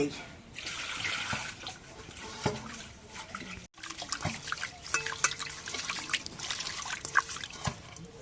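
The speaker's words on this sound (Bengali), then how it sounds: "এখন চিংড়ি মাছগুলো ধুয়ে" Running water splashes as shrimp are rinsed at a sink before cooking with pangas fish, a steady trickle with intermittent clatter and splashes, close by.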